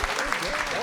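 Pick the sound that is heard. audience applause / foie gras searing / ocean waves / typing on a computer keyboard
audience applause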